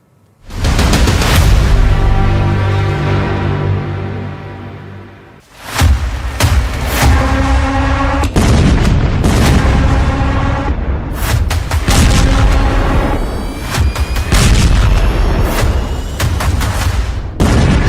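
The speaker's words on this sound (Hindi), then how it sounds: "फिर बम फटने लगे हैं" Bombs explode in war footage, with a series of loud, close booming blasts, each rumbling and decaying before the next heavy detonation hits, several in quick succession across the whole stretch.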